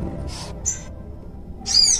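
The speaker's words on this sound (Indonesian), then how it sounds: "Burung-burungnya berisik sekali." Short bursts of bird calls ring out over a low background rumble, a couple of quick chirps early and a louder, busier call near the end.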